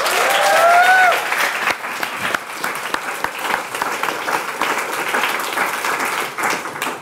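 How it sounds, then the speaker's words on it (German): An audience applauds a team at a live stage battle show: dense, sustained clapping from a full room, with a brief whistle or cheer at the start before the clapping settles and carries on. "Applaus bitte für das Team."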